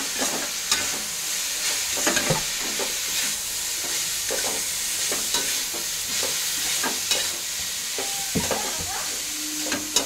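Noodles boiling in a pan for chow mein are stirred repeatedly, producing rhythmic scraping and knocking clicks over a continuous bubbling hiss, loud and close throughout.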